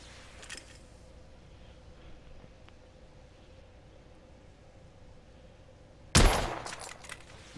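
A single loud rifle shot from a scoped long-range rifle in The Order: 1886, a sharp crack near the end that decays into a short echo after several seconds of quiet ambience.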